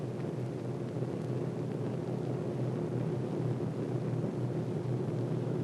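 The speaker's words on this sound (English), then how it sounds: "With bomb bays empty and noses down, the Marauders head for home fast" World War II B-26 Marauder bombers drone overhead on their way home from a mission in Italy. Their engines give a steady, low, rumbling roar that stays even throughout, with no talk.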